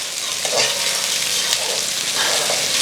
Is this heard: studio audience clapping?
no